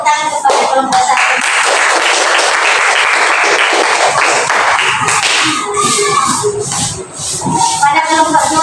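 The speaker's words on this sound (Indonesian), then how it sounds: "Berikan tepuk tangan kepada kelompok satu." A classroom of schoolchildren applauds group one with loud, sustained clapping that thins out toward the end, with some chatter mixed in.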